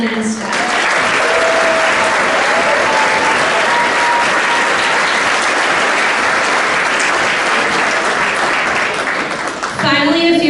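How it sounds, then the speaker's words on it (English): A crowd at a football banquet claps steadily and loudly for about ten seconds, with the sound of the applause dense and continuous before tapering off at the end. "So if you could give a round of applause for Madeline and Steph."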